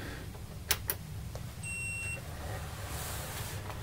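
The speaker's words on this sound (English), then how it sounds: "That beep came from the controller." A short electronic beep from a Sega console controller with a steady tone, sounding once, clear against a quiet background hum.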